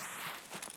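Footsteps in Escape from Tarkov, a few faint, soft steps close together, heard quietly with no talk over them.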